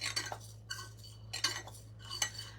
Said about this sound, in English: Make sure my paint's still stirred up.